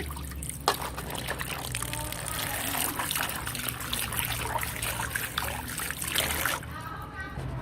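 Running water trickles and splashes steadily while mangoes are washed by hand, close and continuous, with someone speaking over it.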